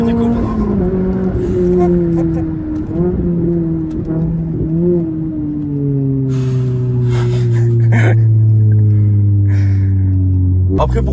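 A Renault Clio RS with a loud Cobra exhaust drones steadily up close, its engine note rising and falling, then dropping into a deeper rumble. Brief rustles and clicks sit near the end.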